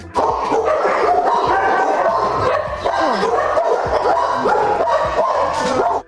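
Several dogs at an animal shelter bark and yip continuously, an overlapping chorus of barking with some whimpering, loud and close.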